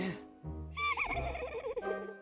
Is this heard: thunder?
no